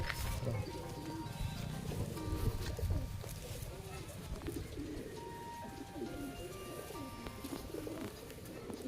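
Pigeons coo in a loft, soft and continuous, with low murmuring calls under faint background noise and some talk.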